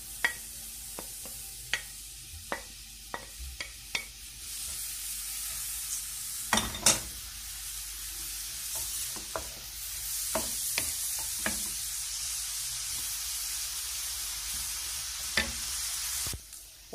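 Onion frying in oil in a pan, a steady soft sizzle running throughout with occasional sharp scrapes and taps of a utensil stirring, close and fairly quiet, no talk.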